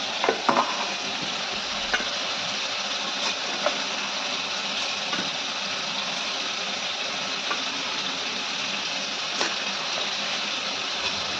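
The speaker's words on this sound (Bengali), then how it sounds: "চিকেনটা আমার একটু ফ্রাই হয়ে গেছে।" Chicken frying in oil for chicken chaap makes a dense, even sizzle heard close up, with occasional light taps and stirring clicks scattered through the steady crackle.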